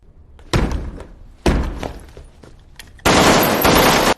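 Three sharp, loud gunshot blasts fired at a door in quick succession, each followed by crashing debris, the last a sustained burst of heavy impact noise.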